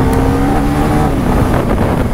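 A Husqvarna Svartpilen 401 motorcycle engine is held wide open at full throttle, a loud, steady, buzzing roar with a rising pitch while riding.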